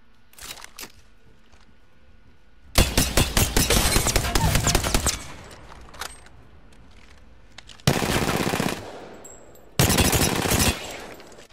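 A few scattered shots give way to three long, loud bursts of rapid automatic gunfire at a shooting range in the video game Apex Legends, separated by short quiet gaps with faint background ambience.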